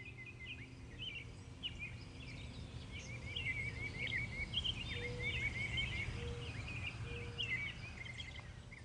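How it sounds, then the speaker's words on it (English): Birds chirping outdoors, a faint cluster of high twittering calls over a low steady background hum, the calls grouped in quick bursts through the middle. "So these are some birds."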